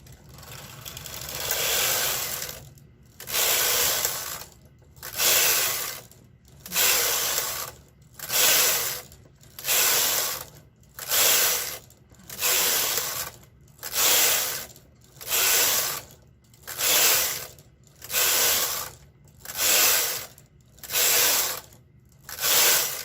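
A knitting machine carriage sweeps back and forth across the needle bed while knitting a tension swatch, making a steady series of about fifteen evenly spaced rasping, whirring passes separated by brief pauses, close and clear with no talking.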